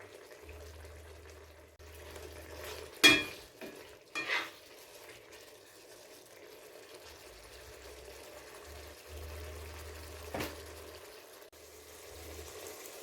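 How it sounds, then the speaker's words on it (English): Lamb simmering in a pot for a coconut curry gives a faint, steady low bubbling, broken by a few sharp knocks and clinks against the pot. "So you're just going to let this boil up and simmer."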